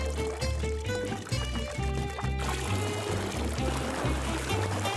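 A bucket of water is poured into a toilet in an animated cartoon, a gushing pour heard under a bouncy music track that runs throughout.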